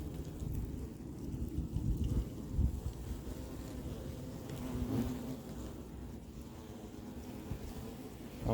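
Hornets buzz steadily around their nest in Yerres, France, as a close, continuous droning hum with wind noise against the microphone and no talk.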